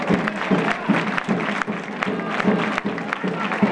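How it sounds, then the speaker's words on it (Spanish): Applause from an audience at a sports event, greeting the local officials and the president of the Mancomunidad de los Pedroches. Steady, moderately loud clapping runs the whole time, with a voice or two talking over it. "Un fuerte aplauso para ellos."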